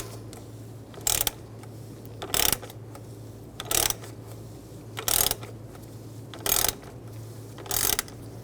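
A ratchet loosens the oil filter housing on a 2006-2009 Mercedes-Benz E350 using a 74mm adapter, giving six short, evenly spaced bursts of clicking over a steady low hum with no talk.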